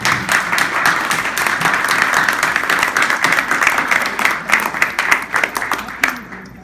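A crowd applauds candidates at a community candidate debate forum, with sustained clapping that stays full for several seconds and then thins out toward the end.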